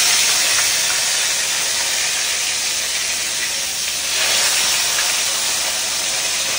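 Fish sizzling in hot mustard oil in a wok, a loud, steady, dense hiss that holds throughout and swells briefly partway through as more fish go in.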